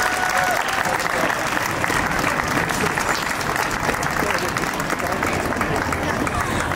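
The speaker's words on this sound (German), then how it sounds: "Und jetzt möchte ich bitte ein bisschen mehr Applaus als eben von St. Avold" A crowd claps steadily and loudly throughout at a race award ceremony in Trier, dense, sustained applause with some cheering mixed in.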